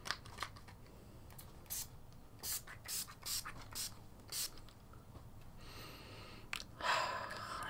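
Several short hissing bursts of a makeup priming spray bottle pump out in a quick irregular series, soft and close, with faint clicks between them.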